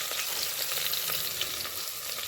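Spices crackle and sizzle in hot oil as a tempering for dal, a continuous dense frying hiss with small pops throughout, close and fairly loud.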